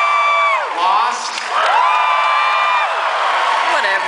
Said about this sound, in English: Maybe we should just save the applause for the end.